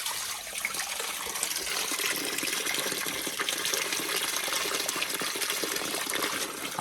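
Irrigation water flows steadily along a farm channel near apple and almond trees on the road to Taroudant, a continuous broadband rush and gurgle close by, with no talk over it.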